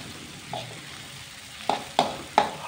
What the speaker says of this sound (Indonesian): bahan yang baru saja di blender, lakukan pengosengan